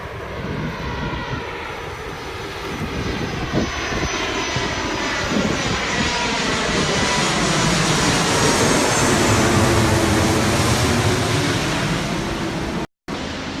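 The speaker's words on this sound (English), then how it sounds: "there's another plane going over" An airplane flies overhead near a home, its engine roar swelling steadily louder over many seconds with a shifting, sweeping drone, then easing slightly toward the end. No one speaks.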